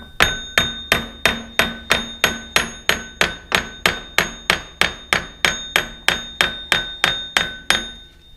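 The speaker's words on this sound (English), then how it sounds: "we'll get a hammer and we'll tap it on in there." A hammer taps a front idler wheel into place on a Ski-Doo SK800 snowmobile, about nineteen evenly spaced sharp metallic strikes with ringing decay, close and steady without speech.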